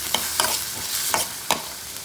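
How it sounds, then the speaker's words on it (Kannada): Onion, tomato and curry leaves fry in a pan for a breadfruit dish, a steady sizzle broken by four or five sharp scraping stirs of a spoon against the pan, close and clear. "ಈಗ ನೀರುಳ್ಳಿ, ಟೊಮ್ಯಾಟೊ ಹಾಗೆ ಫ್ರೈ ಮಾಡ್ಕೊಳ್ಳೋಣ"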